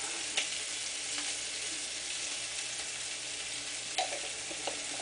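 Ribeye steaks fry in a hot pan, a steady soft sizzle running throughout with a few faint clinks and scrapes, no voices.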